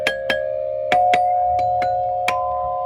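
Playground chimes in a maze at a nature park ring as about seven separate struck tones, each sharp attack leaving a sustained bell-like ring that overlaps the next, loud and close.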